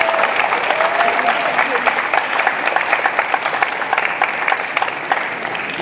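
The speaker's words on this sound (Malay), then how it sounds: "Adik-adik, kita berikan tepukan yang paling gemuruh." A hall audience at a university leaders' colloquium opening claps for the guest of honour, dense sustained applause from many hands holding steady and loud for several seconds.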